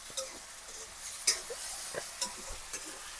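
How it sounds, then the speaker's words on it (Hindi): Potatoes and onions frying in a pan in a village kitchen, a faint soft sizzle broken by a few light scraping stirs and clinks, close but quiet, with no talking. "ये तरफ अभी फ्राई होते आलू है"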